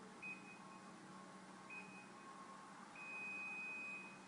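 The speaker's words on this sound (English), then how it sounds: "we keep going through until we get the beep, the long continuous beep" A Daikin air conditioner gives three high electronic beeps against a quiet hum during fault-code checking, the last one held long and steady.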